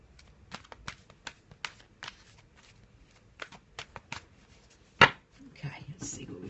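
Oracle cards are shuffled and handled on a table, giving a run of soft, close card flicks and taps, then one sharper slap as a card is laid down and a brief rustle after it.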